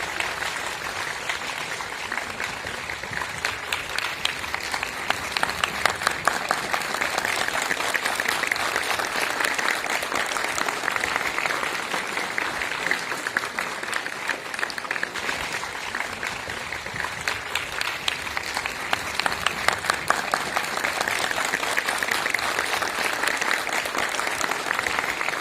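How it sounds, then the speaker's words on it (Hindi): An audience applauds guests at a college event with ISRO scientists, steady dense clapping that carries on without a break for roughly twenty-five seconds. "तालियों की करतल ध्वनि से हमारे अतिथियों का स्वागत करें."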